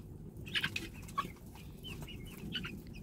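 Egg-laying hens and meat birds cluck together in a hoop coop on a farm, with several soft, close clucks and short calls scattered over a low background hum.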